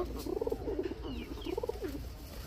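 Pigeons of Pakistani breeds coo in close, repeated throaty phrases, two clear bursts of rolling coos over faint background noise with a brief chirp between.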